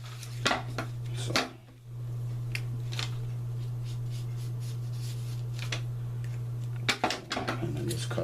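Scissors cutting out a leather-style archery tab at a work table, a few distinct snipping and rustling cuts over a constant low hum, with brief handling noises between snips.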